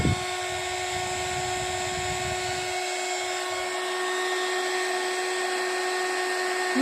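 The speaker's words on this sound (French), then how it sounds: "avec mon heat gun." Heat gun warming embossing powder on a Christmas card, a constant close whirring whine with a steady fan rush, some low rumble at first that fades, alone without talk.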